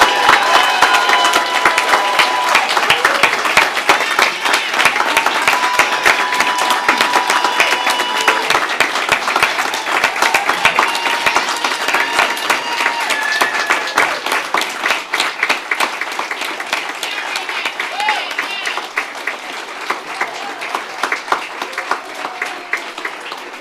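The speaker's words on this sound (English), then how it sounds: "I wanted you to give these lovely people a very, very big round of applause to congratulate them on their achievements." A large audience at a Royal College of Surgeons diplomates ceremony gives a long, loud, dense round of applause that stays full and steady throughout, thinning only slightly toward the end.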